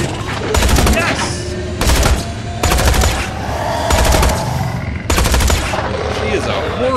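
Bursts of automatic gunfire in the video game Tales from the Borderlands, four loud rapid-fire volleys separated by brief pauses, with voices and game sounds underneath.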